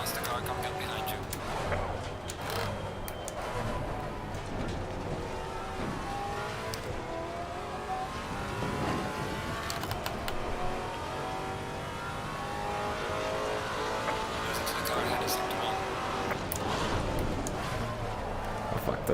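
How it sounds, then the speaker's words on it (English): Race cars in the sim racing game Assetto Corsa Competizione at Oulton Park, engines droning steadily and loud with passing surges and some tire squeal, while a voice talks over them throughout. "Faster car coming up behind you."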